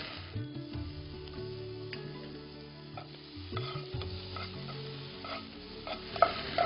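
Chopped tomatoes fry and are stirred in oil in a pan for soya pulao, a steady close sizzle with scraping stir strokes over soft background music, no talking.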